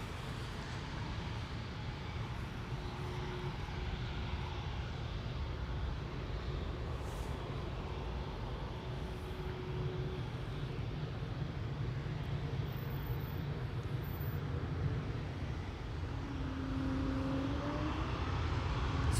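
A LOT airliner, flight 266 to Warsaw, departs Amsterdam Schiphol with a faint, distant, steady engine rumble that swells a little in the final seconds.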